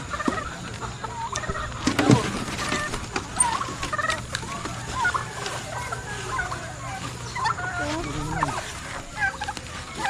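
Backyard chickens and turkeys on a farm in Batangas cluck and gobble in a lively mix, with repeated turkey gobbles and hen calls up close and someone talking intermittently among the birds.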